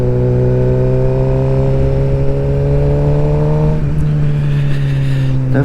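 A motorcycle engine drones loud and close while riding, a steady harmonic hum that shifts pitch slightly as the revs ease and then change partway through, with wind rush around it.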